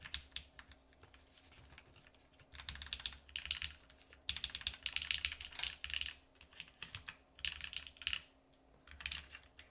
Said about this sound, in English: I think a long pull of any variety is going to sound really good in this keyboard too